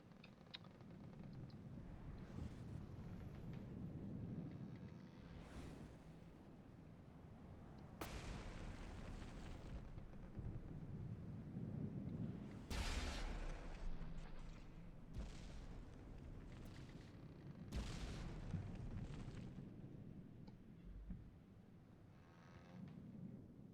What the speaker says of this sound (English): We're going to have to just torpedo the ship to death.